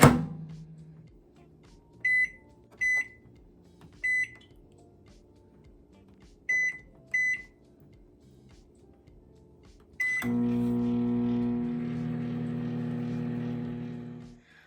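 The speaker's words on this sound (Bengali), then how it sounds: "দিয়ে দেবো মাইক্রোওয়েভ ওভেনে।" Several short electronic keypad beeps from a microwave oven, then a steady, fairly loud hum as it starts running to steam pieces of katla fish belly in a bowl. The hum continues alone to the end.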